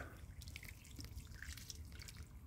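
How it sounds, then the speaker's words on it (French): Water pours from a watering can with its rose removed onto potting soil during layering, making a close, continuous splashing and trickling with no pauses. "on prend simplement l'arrosoir, on ôte voilà, la pomme et on arrose bien."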